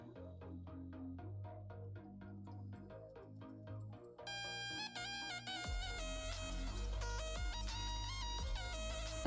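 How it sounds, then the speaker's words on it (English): Mobile phone ringtone playing a bright, melodic electronic tune with repeating chime-like notes, swelling from a lighter opening into a fuller, louder passage with bass, heard alone without talking. "My phone just went crazy"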